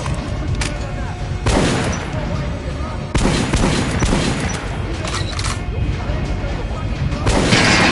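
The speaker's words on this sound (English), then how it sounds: "Now shoot the armored dummy." Loud gunfire from the video game Metro: Last Light Redux, aimed at an armored training dummy: repeated heavy shot bursts and booming fusillades fill the whole stretch.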